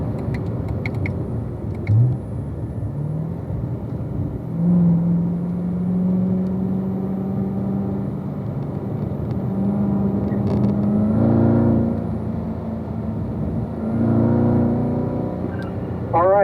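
A car engine drones while driving in fifth gear, heard from inside as a steady, fairly loud hum whose pitch rises and dips slightly as the car eases on and off the throttle, with road rumble underneath.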